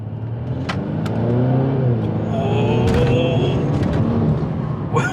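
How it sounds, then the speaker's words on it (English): A Mercedes C300 accelerates hard through first, second and third gear, its engine roaring loud and close with a steady rising drone and brief shifts between gears. "let's do a one quick pull"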